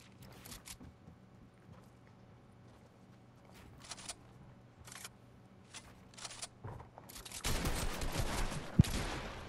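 Gunfire in Fortnite, several short sharp cracks spaced apart at moderate loudness, followed by a denser, louder burst of shooting and noise toward the end.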